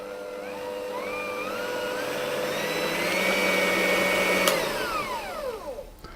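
An electric mixer whisks eggs to stiff peaks, a steady whirring motor whine that rises slightly in pitch and then winds down as it is switched off, alone and close by.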